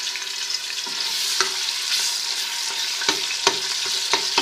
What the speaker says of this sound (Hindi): घी गर्म होता है तो हम इसमें प्याज शामिल कर देंगे